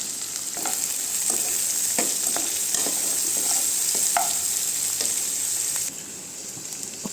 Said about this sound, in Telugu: ఆయిల్ వేగిన తర్వాత పోపు గింజలు, 2 ఎండుమిర్చి, తరిగి పెట్టుకున్న పచ్చిమిర్చి, ఉల్లిపాయలు, కరివేపాకు 2 నిమిషాల పాటు ఫ్రై అవ్వనిచ్చి